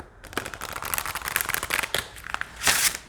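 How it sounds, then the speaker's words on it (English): A Mystic Sisters oracle deck shuffled by hand, a continuous close flurry of soft slaps and riffles lasting a few seconds, ending with a brighter swish. "So these have a really good shuffle feel to them."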